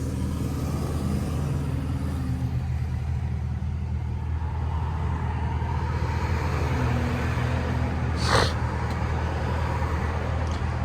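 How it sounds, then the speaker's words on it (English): Chrysler 300S engine driving in track mode, a steady low rumble and road noise inside the cabin, continuous and moderately loud with no speech. "for the video purposes we're going to be driving in track mode"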